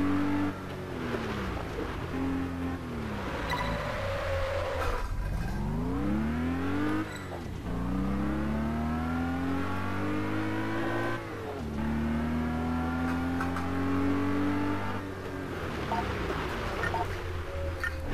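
A car engine revs and drops in sweeping waves during a handbrake turn in the driving video game Test Drive Unlimited 2, steady and loud, with pitch rising and falling through the maneuver.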